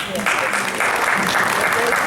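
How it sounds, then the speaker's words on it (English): Dense, steady applause from the audience at a Tuskegee city council meeting, loud and close throughout, with voices mixed into the clapping. "let's give her a round of applause and the staff."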